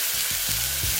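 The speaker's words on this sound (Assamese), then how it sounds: "এইখিনি আমি অকণমান ফ্ৰাই হ'বলৈ দিওঁ পিঁয়াজখিনি।" Onions fry in a pan with a brief, steady sizzle and a couple of soft stirring bumps, close and alone.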